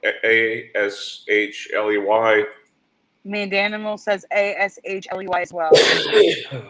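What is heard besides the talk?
sneeze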